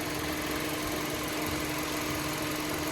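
An engine runs steadily during a cylinder head gasket test, giving a constant loud idling rumble with a faint knocking throb underneath and no talk.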